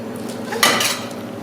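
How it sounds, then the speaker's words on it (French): A whisk scrapes and clinks against a bowl of quiche lorraine filling in one quick burst of metallic strokes, close and alone. "Et on va fouetter tout ça."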